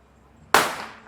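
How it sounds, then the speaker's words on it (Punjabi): A single sharp Diwali firecracker bang bursts out of near silence, followed by a brief fading crackle and decay. "ਇਧਰੋਂ ਕਿਧਰੋਂ ਪਟਾਕੇ ਦੀ ਆਵਾਜ਼ ਆਉਂਦੀ ਹੈ"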